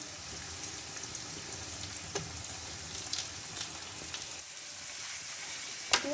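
Chicken marinated in salt, turmeric, Kashmiri chilli powder and vinegar sizzles steadily in a hot pan of spices for biryani, a close, dense frying hiss with a few sharper crackles and stirring clinks.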